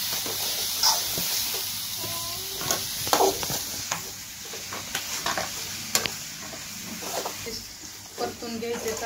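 Fish fry on a tawa with a continuous hissing sizzle and occasional stirring scrapes, while a voice talks intermittently over the cooking.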